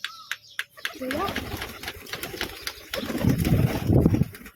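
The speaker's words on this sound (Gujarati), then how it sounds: "અમારા કબૂતર" Pigeons coo softly nearby, low rolling calls mixed with a person talking and some shuffling noise.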